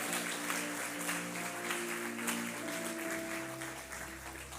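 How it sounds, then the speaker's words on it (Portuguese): A church congregation applauding during a Methodist sermon, a sustained, dense clapping throughout that eases slightly toward the end, with faint music tones underneath. "Você pode aplaudir ele se você é alegre mesmo"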